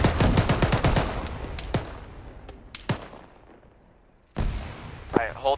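Gunfire and explosions in a military video game squad training session: a rapid burst of heavy shots at the start, then several sharp isolated reports trailing off, with a loud blast and a short voice near the end.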